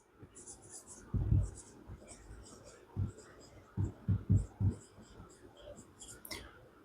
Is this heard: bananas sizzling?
no